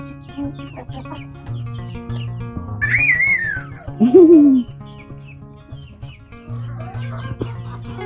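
Chickens squabble over a snack of ripe bananas, clucking and squawking close by in a busy jumble, with a couple of louder rising calls in the middle over a constant background murmur.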